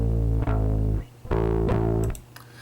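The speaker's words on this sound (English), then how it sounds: "And here is adding the distortion in." Bass guitar played through a distortion effect in Logic, a few sustained low distorted notes with gritty buzzing overtones, alone and fairly loud with short pauses between phrases.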